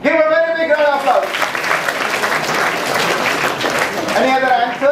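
Applause from an audience at a leadership event, a dense steady wash of clapping that swells through the middle, with a voice talking over it at the start and end.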